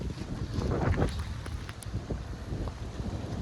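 Wind gusts blow across an open outdoor field, a loud, continuous rumbling buffet against the microphone that swells and eases without pause.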